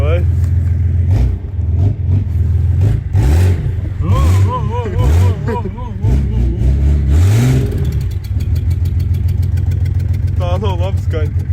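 Car engine revving as the gas pedal is pressed, loud and close, with repeated rising and falling revs over a rumbling idle; people talk over it.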